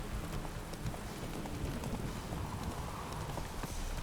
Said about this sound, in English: One sec, I got on my horse.